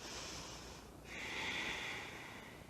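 Slow, deep breathing during a vinyasa yoga class, a soft airy inhale swelling into a steady exhale, faint and close with a quiet room hiss behind it.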